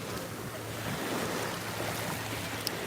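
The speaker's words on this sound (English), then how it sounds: "The sound of the ocean is so soothing." Ocean surf at Fort Lauderdale beach washes in a steady, broad roar with wind buffeting the microphone, continuous and close throughout.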